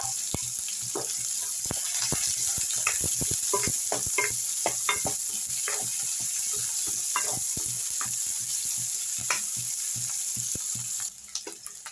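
Onion and dried red chillies fry in a pan, steady sizzling overlaid with rapid, repeated stirring clicks and scrapes of a ladle, easing off at the very end.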